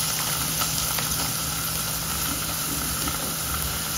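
Ginger garlic paste roasting in a pan with onion for a spicy clam curry gives off a steady, even sizzling hiss that runs without a break.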